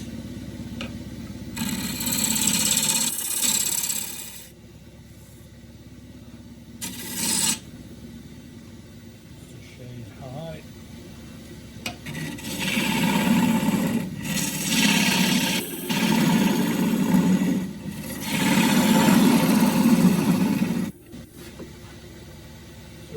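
Half-inch ball gouge cutting a claret ash breakfast bowl on a wood lathe gives rough rasping scrapes in repeated bursts of several seconds, with quieter spinning gaps between passes.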